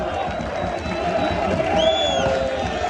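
Football fans cheering at the Belgrade eternal derby in a stadium, a dense continuous roar of crowd voices with a whistle-like tone rising near the end, loud and sustained.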